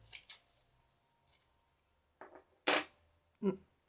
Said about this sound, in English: Let's cut the ribbon off it.